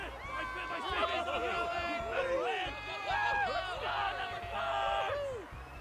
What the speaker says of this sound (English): Amidst the deafening roar of the crowd, SYLUS stands up.